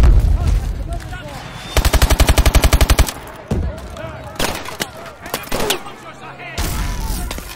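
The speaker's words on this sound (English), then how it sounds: "They're using MMGs. Stay clear." Medium machine gun fire in the Call of Duty Advanced Warfare video game, a loud, fast rhythmic burst of rapid shots amid explosive game combat noise, with voices calling out between the bursts.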